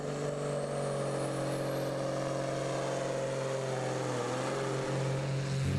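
At a tractor pulling finals, a pulling tractor pulls away across a dirt track, its engine holding a loud, steady drone with a droning harmonic buzz and a faint rising whine.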